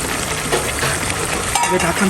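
Potatoes sizzle and crackle steadily in a hot pan while being stirred, a dense continuous frying noise, fairly loud and close.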